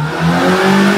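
A Perodua Myvi engine revs up close and loud, its tone climbing and holding high with a harsh, steady whine.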